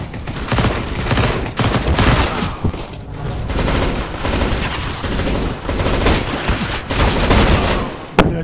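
Rapid bursts of gunfire in CS:GO, loud and sustained automatic shooting with brief pauses, dense and continuous throughout without voices.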